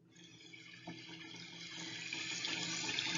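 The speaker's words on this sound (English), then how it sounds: "I'm going to start playing some sounds of water" Gently flowing water, like a running tap, plays as a calm backdrop for a guided mindfulness exercise; a steady soft trickle that swells slightly louder toward the end, with no voices.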